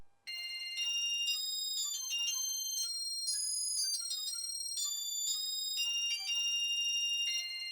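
A hidden jingle from a Nintendo game plays alone as a bright, bell-like electronic melody, a steady run of chiming notes that continues without pause for several seconds at even volume.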